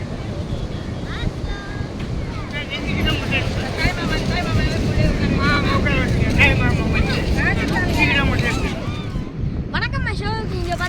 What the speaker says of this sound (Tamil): அடிக்குது பலமான காத்தா வேற இருக்குங்க